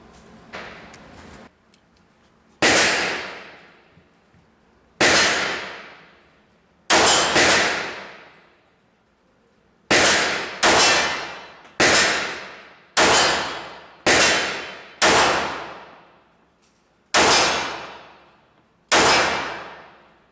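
A Para 1911 G.I. Expert pistol fired at a range, ten sharp loud shots spaced a second or two apart, each with a ringing decay, the pace slightly uneven with a few quick pairs.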